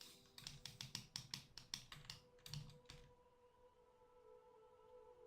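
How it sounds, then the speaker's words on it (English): Keyboard typing in a streamer's setting: a fast run of crisp clicking keystrokes close by for about three seconds, followed by a few scattered taps and then a quiet room with faint hum. "I can hear the keyboard."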